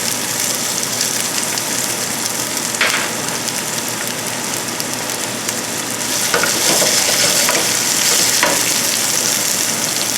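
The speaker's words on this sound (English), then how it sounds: "we're going to add our sliced garlic. And keep cooking that for another 5 minutes with our sliced garlic." Onions and sliced garlic sauté in a pan with a loud, continuous sizzle and crackle, swelling a little louder near the end, with occasional stirring scrapes and no talking.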